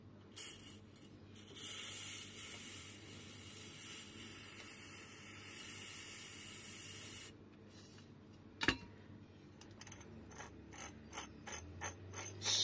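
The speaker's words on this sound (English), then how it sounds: "The free hub pulls and all that already sounds a bit better actually." Freehub ratcheting on a rusty Bafang 750W rear hub motor, faint mechanical clicking and whirring, then a sharp knock and a run of quick pawl clicks near the end.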